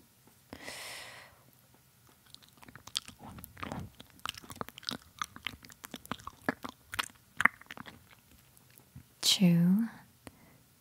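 Close, quiet chewing and crunching sounds in an intimate ASMR-style recording, wet bites and mouth noises scattered irregularly, with soft whispered speech and breaths in between.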